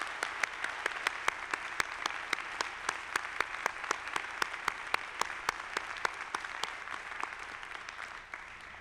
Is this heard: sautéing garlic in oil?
no